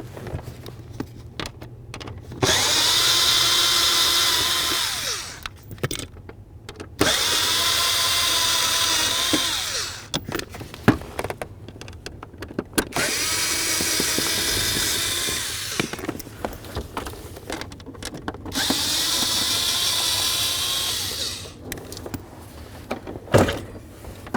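A power tool spinning bolts out of the panels under the dash of a 1994–2004 Chevy S-10, loud whirring bursts of a few seconds each, repeated about five times with clanks and handling noise in between.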